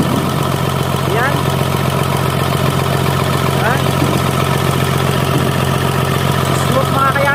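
An overhauled 6D14 diesel engine runs at a steady idle, a loud, even rumble that continues unbroken throughout.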